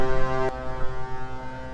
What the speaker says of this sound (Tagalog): Nagputput na yung barko.